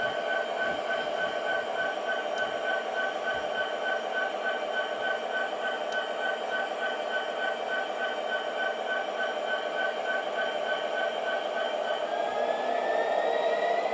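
A model train hums and whirs steadily along its track, a faint, continuous mechanical drone with a high whine near the end.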